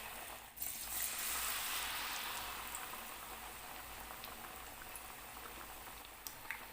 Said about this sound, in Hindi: तो अब हम स्टार्ट करते हैं टिक्कियाँ, आलू की टिक्कियाँ जो है वो फ्राई करना।